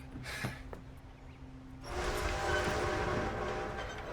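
A train in the video game Red Dead Redemption 2 approaches. A brief horn-like tone comes first, then a loud, steady rolling rumble of the passing train builds and holds, with no speech.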